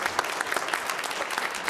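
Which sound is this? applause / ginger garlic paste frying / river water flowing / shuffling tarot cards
applause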